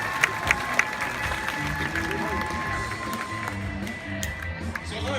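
Audience at a Six Flags Discovery Kingdom tiger show clapping and cheering for Aasha, a female diving tiger, a broad crowd wash with a few sharper claps, moderately loud with a voice over it.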